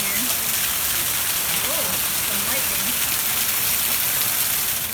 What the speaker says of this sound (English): Check out how much it's raining here.